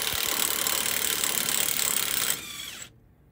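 A ratchet spins a bolt out of the leaking differential on an antique fire truck, giving a loud, continuous run of rapid metallic clicks that slows briefly and then cuts off near the end.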